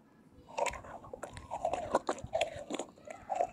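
Close-up chewing and biting with moist crunches, a steady series of mouth sounds at moderate loudness, no talking.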